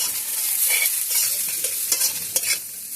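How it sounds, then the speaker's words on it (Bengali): Sizzling in a pan as chopped cabbage is stirred and scraped through frying onions for a fish-head cabbage dish, with a few sharper clatters of the spatula. "এবার এর মধ্যে দিয়ে দেবো আমি এই যে বাঁধাকপিটা"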